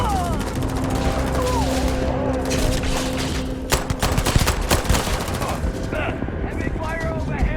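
Heavy automatic gunfire in the space game Starfield, dense rapid bursts and booming shots close and loud throughout, layered with in-game voices and battle noise.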